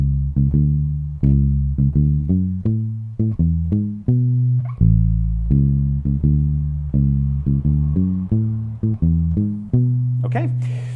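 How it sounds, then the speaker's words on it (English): Electric bass guitar playing a muted, choppy reggae-style riff, a steady rhythmic run of short plucked notes with deep sustained tones, close and loud, played alone. "So the bass line sounds like this."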